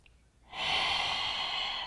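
A long, steady breath during a vinyasa yoga flow, soft and airy, swelling up after a brief quiet moment and holding evenly at close range.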